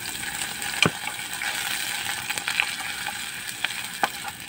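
Onion fries in hot oil with a steady, close sizzling hiss, and occasional sharp utensil knocks and scrapes ring out against the pan.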